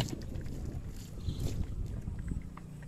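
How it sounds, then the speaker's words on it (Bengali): A boat paddled hard on open water, with low, continuous splashing and sloshing under steady wind noise on the microphone, and no talking. "হ্যাঁ, জোরে প্যাডেল করো, জোরে জোরে জোরে জোরে জোরে"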